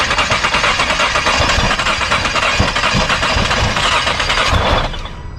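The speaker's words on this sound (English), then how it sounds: "He tries one last time, being careful not to burn out the starter." A 2018 Nissan GT-R, rebuilt after being badly damaged, cranks loudly and repeatedly but never catches. The starter grinds steadily and close up for several seconds, then cuts off abruptly.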